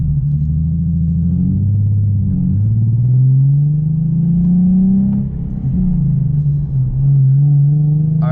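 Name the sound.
Nissan 370Z with Greddy EVOlution GT exhaust driving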